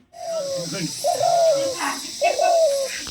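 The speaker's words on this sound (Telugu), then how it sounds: "ఇవనుకో చిన్న పిట్టలు చూడండి" Small birds calling nearby, three drawn-out cooing phrases in a row with short pauses between them.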